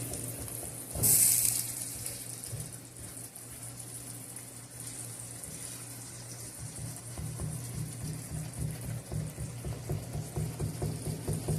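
Goat brain masala frying in a pan, a soft steady sizzle with faint stirring and scraping, quiet and continuous throughout.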